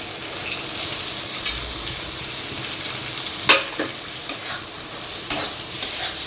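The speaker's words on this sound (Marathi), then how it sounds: "थोडं परतत आल्यावर आपला हा पेरीचा किस केलेला आहे तो टाकते" Grated raw mango being sautéed in a pan, with a continuous sizzle and repeated scraping spatula strokes plus a few sharper clacks against the pan, close and clear.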